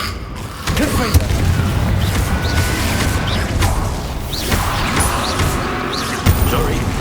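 Fire-blasting Confringo spell explosions in the Hogwarts Legacy video game, dense booming bursts and crackling debris layered over continuous action noise, with voices calling out through the fight.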